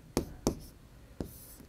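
Three sharp, separate taps and scrapes of writing on a classroom board during a maths lesson, close and fairly loud, with short gaps between the strokes and no talk over them.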